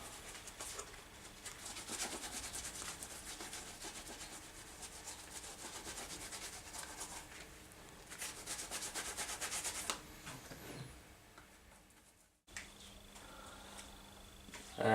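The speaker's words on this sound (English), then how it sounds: "Bit of rag in there. Just rub it on." Rag rubbing Aussie conditioner into knife-sheath leather by hand, a steady close scrubbing and rasping that carries on for about ten seconds, then eases off, breaks briefly and resumes more softly, with no talking.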